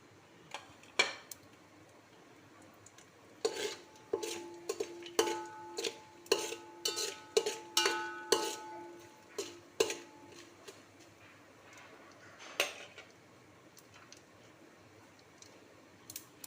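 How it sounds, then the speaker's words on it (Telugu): A spoon scrapes and clinks against a metal pot as bagara rice ingredients are stirred together, giving irregular clattering strokes that come in quick bursts and then thin out, close by with no talking. "మొత్తం అన్నీ వేసేసి మొత్తం అంతా కలిపేస్తున్నాం"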